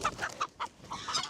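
A chicken clucks in short, repeated bursts, close and fairly clear, about six quick clucks over a second or so.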